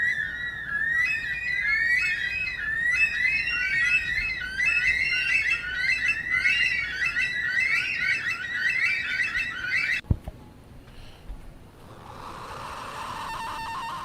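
Shrill, wailing screams of a bush stone-curlew repeat in a steady chorus for about ten seconds, then a sharp knock sounds and a soft rushing noise rises underneath.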